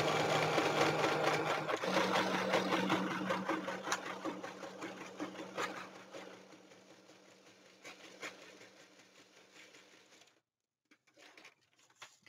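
A sewing machine stitches the flap of a junk journal, its steady whirring motor loud at first and fading over about ten seconds, then stopping before a few brief soft sounds.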